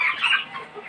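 A broiler-farm hen clucks in a quick, close run of harsh, repeated calls with no talking over it.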